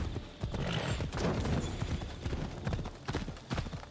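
Horse hooves clip-clop at a gallop in Assassin's Creed Odyssey, with a neigh rising among the rhythmic hoofbeats, fairly close and steady throughout.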